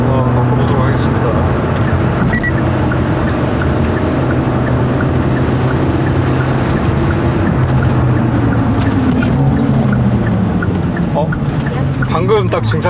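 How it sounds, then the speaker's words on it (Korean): Hyundai Avante N with a manual gearbox driving in town, its engine droning loud and steady from inside the cabin, with the pitch easing and shifting as the driver changes into second gear around 3000 rpm. "3000rpm 정도에서 2단으로 한번 바꿔보도록 하겠습니다"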